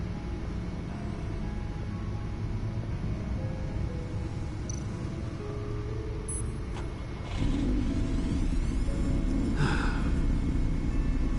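A car engine in the Telltale Batman game, over 600 horsepower, rumbles steadily and low throughout, then swells louder as it accelerates partway through, with a few faint electronic blips and whooshes.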